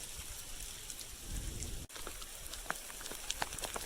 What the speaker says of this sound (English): Just started hailing